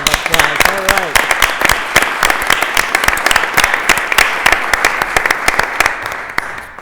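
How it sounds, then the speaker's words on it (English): Audience at a Lowell city council meeting applauds in a loud, sustained burst of dense clapping, with a few voices and talk faintly underneath. "Let's give Norma a round of applause."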